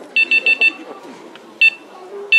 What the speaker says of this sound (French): C'est une télécommande qui fait bip bip.